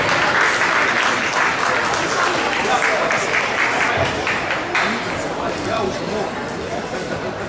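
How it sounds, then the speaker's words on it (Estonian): Sustained audience applause at a senior ballroom dance competition, steady and loud across the hall with dense continuous clapping and a few voices mixed in. "tulevad meie määrad ja võtame aplausid vastu"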